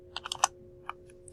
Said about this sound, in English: I can now start typing in here